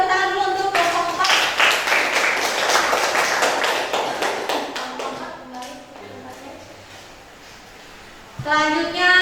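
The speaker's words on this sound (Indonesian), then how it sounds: "lagi kasih tepuk tangan dulu untuk kelompok 4" A classroom audience claps for a presenting student group, a dense burst of applause that fades after several seconds while a voice talks over it.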